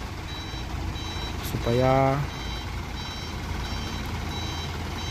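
Reversing beeps sound from a Canter truck laden with coal and with a broken axle, a regular repeating tone over engine rumble and outdoor noise, with a brief rising horn-like sound midway and a voice speaking.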